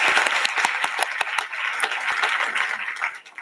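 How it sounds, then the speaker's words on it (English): An audience at a university Martin Luther King Jr. and Black History Month celebration applauds a keynote speaker with dense, sustained clapping that tapers off toward the end. "One more applause for Ms. Goss Graves."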